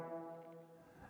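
A single sustained trombone note is started with breath alone, with no tongued attack, giving a soft onset and a steady tone that fades within about a second, close and fairly quiet.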